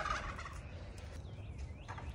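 Turkeys gobble at a distance, a faint burst of warbling calls standing out over steady low background rumble, with no talk.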